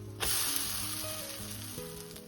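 Spoonfuls of oatmeal pancake batter hiss on a griddle, the sizzle swelling suddenly at the start then holding a steady, close crackle that slowly eases, with no talking.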